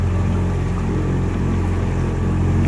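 A 20 horsepower Yamaha outboard boat motor running at varied speed during break-in, a steady, loud droning hum with constant low engine tone and no talking.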